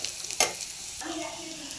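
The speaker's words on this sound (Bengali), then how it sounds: "পেঁয়াজটা ভাজা ভাজা হয়ে এসছে" Onions frying in a pan with garlic and green chillies, a soft steady sizzle with a brief scrape of stirring near the start, heard close and alone.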